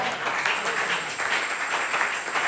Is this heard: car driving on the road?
no